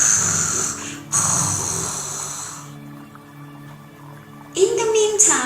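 Loud, drawn-out snores repeat in a forest setting, mixed in with music and a voice that seems to imitate the snoring.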